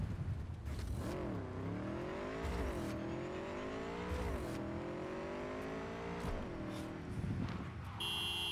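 A car skidding in the Cyberpunk 2077 video game, with a continuous engine drone whose pitch rises and falls in repeated sweeps while tires slide, loud and steady throughout.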